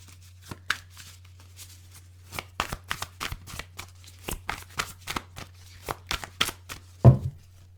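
Tarot cards are shuffled close up in a series of crisp, irregular riffling bursts and taps spread across the stretch, ending with a louder thump, over a faint steady low hum and no talking.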